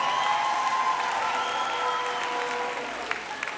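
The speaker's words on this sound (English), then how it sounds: "Can we give the pastor another round of applause?" A graduation ceremony crowd applauds the pastor in a large hall, with broad sustained clapping and some cheering mixed in. Tonal whistles or vocal sounds drift over the applause, which thins slightly toward the end.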